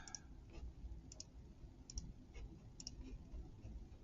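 Calculator keypad buttons pressed while entering numbers for an algebra GCF check, a few soft, close clicks in an irregular tapping rhythm against a quiet background.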